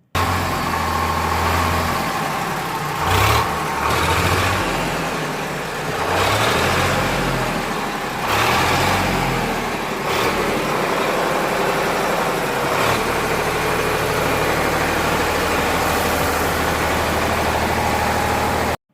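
A Sonalika 42 RX tractor engine idles steadily nearby, a continuous low rumble with a few brief surges in the first half and no voices.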